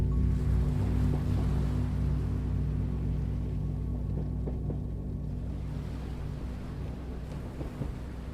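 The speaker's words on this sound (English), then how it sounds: "the distant sound of waves" Distant ocean waves along the Scottish coast wash under a steady low rumble from a moving train, a soft continuous roar with no voices.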